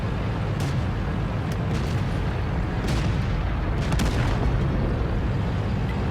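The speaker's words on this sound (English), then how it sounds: "Just fire into the back of their tanks." Tank cannons boom repeatedly in the PC game World of Tanks, several heavy blasts landing roughly a second apart over a loud, dense rumble of battle noise.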